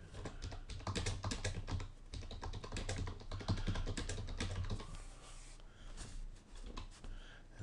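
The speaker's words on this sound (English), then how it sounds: "then you can use the keyboard" Typing on a computer keyboard to send a message to an iPhone, a quick irregular run of close, crisp key clicks in bursts, soft and alone with no talk.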